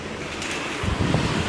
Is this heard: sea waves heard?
yes